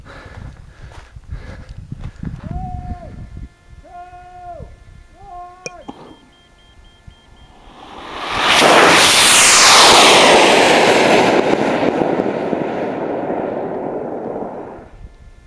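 A large sugar-propellant rocket motor, the Phoenix, ignites after a few tonal beeps and roars loudly for several seconds, a broad rushing blast that swells and then slowly fades as it climbs away.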